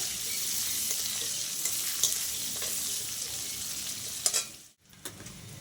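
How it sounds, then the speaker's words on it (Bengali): Green plantain pieces with turmeric fry in a pan of oil, a steady close sizzle with occasional stirring scrapes, briefly dropping out near the end before resuming. "একটু হলুদ দিয়ে এবার কাঁচকলাগুলো একটু ভেজে নেবো"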